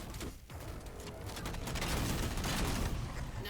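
Halo battle with missile explosions and gunfire, a dense, loud barrage of blasts and rapid shots that swells and stays heavy to the end.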